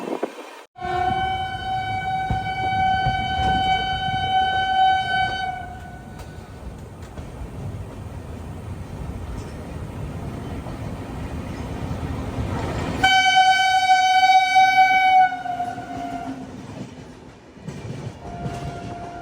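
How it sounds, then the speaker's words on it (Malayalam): The Tejas Rajdhani Express, running from Rajendra Nagar in Bihar to New Delhi, rumbles past with rhythmic wheel clatter, sounding its horn in a long blast and again later. "ബീഹാറിലെ രാജേന്ദ്ര നഗറിന്ന് ന്യൂഡൽഹിയിലേക്ക് പോകുന്ന തേജസ് രാജധാനി എക്സ്പ്രസ്."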